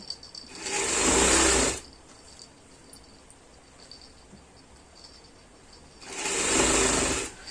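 A sewing machine stitching a Punjabi kameez, running in two loud whirring bursts about a second long each, separated by quiet, with faint insect-like background hiss.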